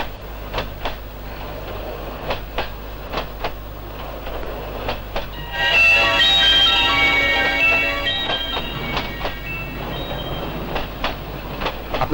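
Rhythmic clickety-clack of a passenger train carriage heard from inside while riding, steady repeated wheel clicks close by, with a brief louder metallic squeal or rattle in the middle.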